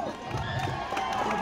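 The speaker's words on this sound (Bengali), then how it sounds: "ওদের জন্য জোরে হাততালি দেওয়া হোক" A crowd cheering and clapping at a Silchar sports event, dense and sustained with scattered shouts and whoops, loud and continuous throughout the short burst.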